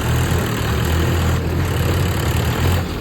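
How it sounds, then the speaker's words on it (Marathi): A tractor engine runs steadily on a bridge with a crowd nearby, a continuous low rumbling drone at close range with no breaks. "इकडनं हे ट्रॅक्टर जोडलाय नाही का मगाशी"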